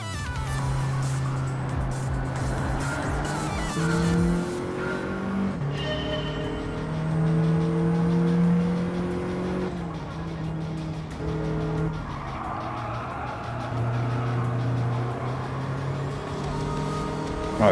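A car in Gran Turismo 7 accelerates hard through repeated gear shifts, its engine note climbing and dropping in steps with some tire noise, loud and continuous for nearly eighteen seconds with no speech.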